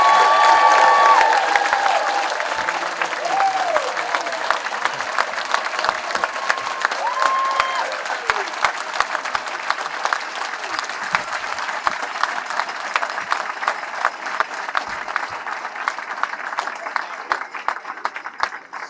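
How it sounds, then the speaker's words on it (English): An audience at a fire department recruit graduation ceremony gives sustained applause, loudest at the start and gradually thinning into scattered claps, with brief cheers near the beginning. "Can we have a nice round of applause for all of them?"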